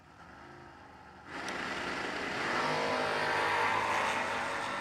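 A Monte Carlo and a red Nova launch off the line at a drag race, engines jumping from idle to a loud roar that keeps building as both cars pull away.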